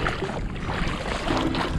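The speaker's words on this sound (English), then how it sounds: "rowing us in like a champ" Water sloshes and splashes against a small dinghy as oars pull through the sea, with light wind noise over the microphone.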